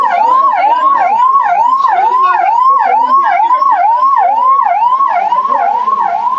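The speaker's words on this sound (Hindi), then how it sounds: "एम्बुलेंस है एम्बुलेंस" An ambulance siren wails loud and close in a steady, repeating rise-and-fall cycle through the whole stretch, with traffic rumble beneath, at a street gathering in Nawalgarh.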